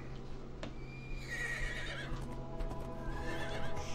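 A horse in the LEGO Lord of the Rings video game neighs with a clear whinny while hooves clip-clop, all fairly quiet over a low, steady game background hum.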